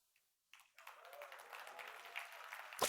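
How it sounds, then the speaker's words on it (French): Sparse, hesitant applause from a few people in a conference audience, starting after a brief silence and building into light, uneven clapping that stays fairly faint, with a sharper clap near the end. "personnes qui applaudissent timidement dans le public"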